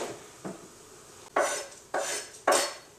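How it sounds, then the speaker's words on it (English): A utensil stirs chocolate and butter melting in a double boiler, scraping against the bowl in four separate strokes that grow louder and closer together toward the end, with no talking. "we're just going to stir the chocolate until it melts"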